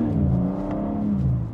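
Remapped BMW M3 Competition xDrive engine revving steadily with a deep, continuous harmonic drone that swells and eases slightly over a short stretch, loud and close.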